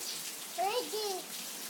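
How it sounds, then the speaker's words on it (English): Rain falls steadily outside, a soft broadband hiss throughout, while a voice briefly speaks over it. "Like a lot of rain, huh?"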